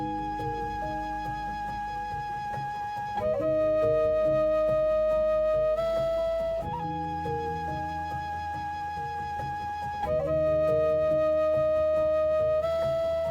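A piano from a Kontakt sample bank with a modern articulation plays a steady chordal pattern with a sustained melody line on top. Soft low bass tones sit underneath, and the phrase repeats in sections, heard alone without talk.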